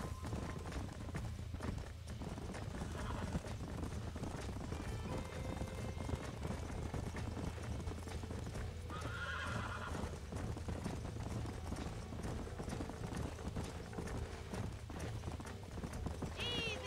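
In Red Dead Redemption, horses clop along steadily at a gallop across open ground, with a loud whinny partway through and another brief neigh near the end, all over a dense, continuous layer of game ambience.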